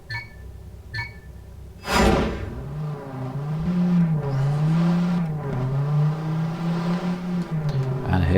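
A car engine in a driving video game hums at a steady, fairly loud drone, its pitch rising and dipping slightly as it runs, following a brief burst and a few faint beeps at the start.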